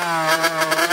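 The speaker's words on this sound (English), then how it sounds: "I'm revving it really hard." A small motorcycle engine revs hard and steadily at high pitch, loud and close, with slight surges in throttle.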